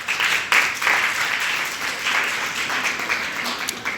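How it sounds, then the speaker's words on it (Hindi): Steady crowd clapping at a Sahaj Yoga meditation gathering in Badshahpur, Gurugram fills the clip, dense and even with a few sharper claps standing out. "तालियां बजाओ।"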